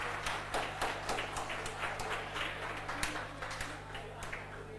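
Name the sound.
person clapping hands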